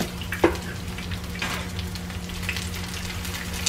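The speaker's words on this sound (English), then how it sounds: "Don't need a lot of oil. Just enough to fry it." Shrimp fritters frying in a shallow layer of oil in a pan, a soft steady sizzle and crackle with a brief sharper pop near the start, quiet and close with no talking.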